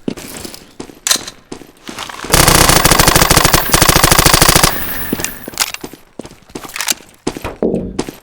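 The HPR weapon in Garry's Mod fires a loud, close sustained automatic burst of rapid, evenly spaced shots. Scattered single clicks and bangs come before and after the burst.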